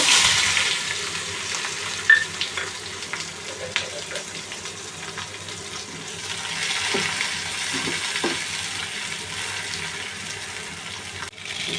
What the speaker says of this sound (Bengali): একটা কড়াইয়ে তেল গরম করে কিছু পেঁয়াজ বেরেস্তা করে নেব